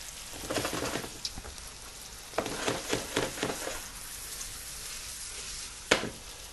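Zucchini tossed and sautéed in a hot pan with salt and pepper, a steady close sizzle broken by several bursts of rattling pan movement and a sharp clack near the end; no talking.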